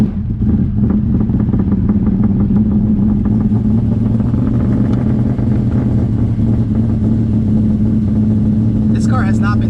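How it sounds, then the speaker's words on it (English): Twin-turbo 2003 Ford Cobra with a Coyote engine on E85 fuel idling, a loud, steady low rumble with a slight lumpy pulse and no pauses. "This car has not been started for a couple of days, so it's nice to see that turned on."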